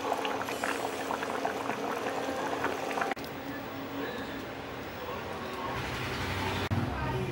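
Fish curry with bori (sun-dried lentil dumplings) simmering in a pot, giving a steady close bubbling and sizzling with faint clinks, continuing on its own without speech.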